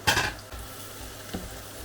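Sauerkraut tipped into a pan of softened carrots frying in a little oil, giving a loud burst of sizzling and clatter at the start that settles into a quieter steady fry, with a brief utensil knock near the end.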